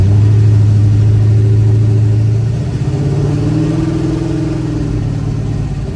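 A 1972 Chevrolet Chevelle with a 572 big-block V8 rumbles deep and loud close by, its steady idle rising into a brief rev that climbs and settles back down.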